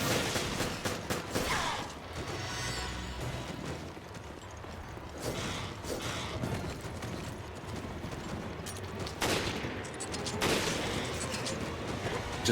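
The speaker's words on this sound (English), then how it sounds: "Just hear distant gunshots." Distant gunfire in Resident Evil: Revelations Raid Mode, scattered bursts of shots and clattering game sounds spread across the stretch with no talk over them.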